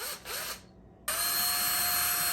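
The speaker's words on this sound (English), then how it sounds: "I prefer to use Ryobi. I like their kitchen power tools the best." Ryobi kitchen power tool whirring at high speed while cooking eggs Benedict, a short burst that stops briefly and then starts again with a steady, loud whine.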